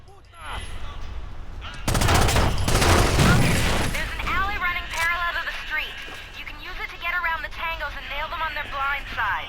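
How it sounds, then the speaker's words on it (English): Gunfire in the shooter game Rainbow Six Vegas: loud, sustained bursts of automatic fire that start abruptly after a quiet moment, with radio-style voices talking over the later shots. "Guns go bang with an enjoyable intensity"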